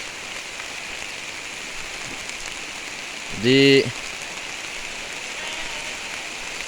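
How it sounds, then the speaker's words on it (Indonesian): Steady heavy rain hisses evenly throughout, with a single brief voice cutting in partway through. "hujan deras."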